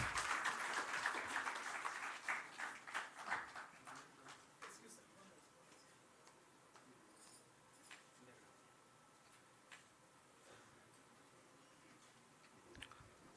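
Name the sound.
applause for the OTT and IPTV launch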